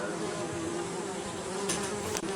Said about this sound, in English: The buzzing of flies.